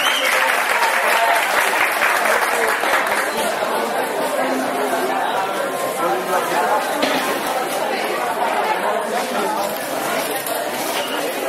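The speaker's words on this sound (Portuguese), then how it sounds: "Cadê as palmas da professora Cacilda Buarque?" A hall audience at a blog launch applauds Professor Cacilda Buarque as she is introduced, giving a long, even wash of clapping with steady chatter running beneath it.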